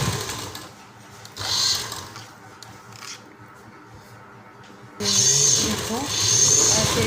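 An electric sewing machine stitches the hem of a pair of pants, running in two bursts, a softer one early and a louder steady run after a pause, with someone speaking over parts of it.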